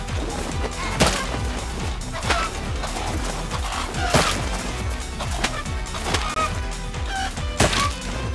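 Roosters clash in the Far Cry 6 cockfighting minigame, a video game fight with dense, steady game noise, repeated sharp wing-beat and strike impacts, and scattered squawks throughout.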